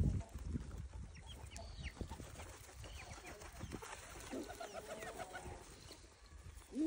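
Chickens and other poultry cluck and squawk in a farmyard while they are fed, with scattered calls and rustling over a busy, moderately close background.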